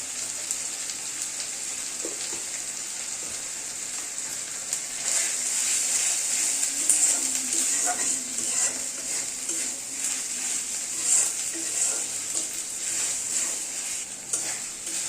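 Spices for a turnip curry with chicken feet and heads fry lightly in a pan, giving a soft, steady sizzle with occasional scrapes and stirs of a utensil, fairly quiet and continuous without talk.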